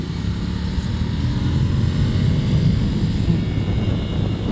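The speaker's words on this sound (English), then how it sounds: "I'm on full throttle coming out of that turn in third gear" A 2019 Ducati Scrambler engine roars at full throttle in third gear coming out of a turn: a loud, continuous low drone mixed with rushing wind, steady throughout and with no talk.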